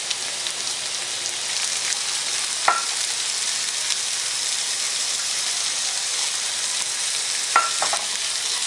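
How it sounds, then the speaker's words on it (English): Frozen spinach sizzles in a frying pan over medium-high heat while being stirred, a continuous close frying crackle with occasional scrapes of the utensil against the pan. "I'm going to add the spinach. And I'm using frozen spinach."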